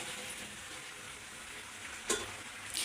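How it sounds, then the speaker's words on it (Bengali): Pumpkin pieces added to potatoes frying in a pan for a rural-style cooking, a steady soft sizzle with a couple of brief clatters as pieces drop in, close and continuous without talk. "এখন হচ্ছে এই যে কুমড়াগুলো দিয়ে দিচ্ছি"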